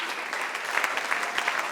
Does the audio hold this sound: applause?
yes